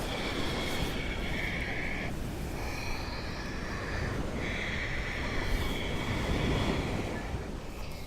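Ocean surf rolls in on the shore at Maui, a steady roar of waves buffeted by wind noise, with faint higher tones drifting over the wash.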